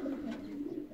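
Racing pigeons coo softly in a breeding loft's flight compartment, a low continuous burbling murmur of several birds, faint and steady, with no talk.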